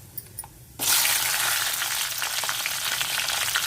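Fenugreek seeds frying in hot oil for a tamarind curry, a loud, steady sizzle that bursts in suddenly after a quiet start and crackles on without a break.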